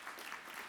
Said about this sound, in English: Please join me in giving a warm round of applause to our winner, GrandPad.